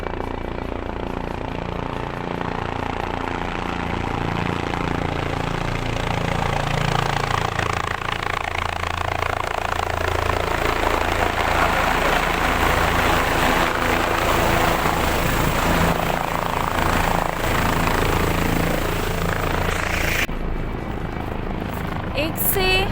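A helicopter roars steadily and loudly at the Kedarnath helipad in the mountains, with a dense rotor and engine wash filling the whole stretch. A person talks under the noise.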